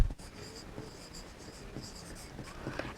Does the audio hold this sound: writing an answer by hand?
yes